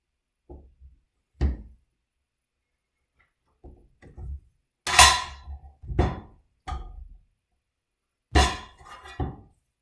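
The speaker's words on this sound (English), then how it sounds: "Cut your cheese." Cheese is cut with a knife in a home kitchen making chicken parmesan: a handful of sharp, separate clacks and knocks, close and irregular, with quiet gaps between them. No voices.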